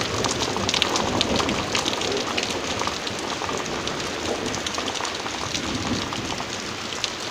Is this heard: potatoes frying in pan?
no